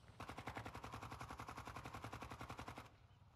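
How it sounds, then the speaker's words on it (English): Rapid sustained bursts of MP7 submachine gun fire in the Call of Duty DMZ video game on Ashika Island, a steady rattling stream of shots lasting a few seconds before cutting off. "They're shooting an MP7."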